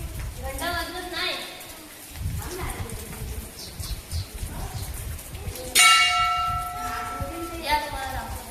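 A temple bell at a village goddess shrine rings with one clear strike about two-thirds through, its bright metallic tone lingering and decaying slowly, while people talk nearby throughout.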